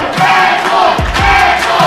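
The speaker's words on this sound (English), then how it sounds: "Crowd chanting Rad Boys." A large crowd at a live independent wrestling show chants in unison, a dense, loud roar of voices filling the arena without pause.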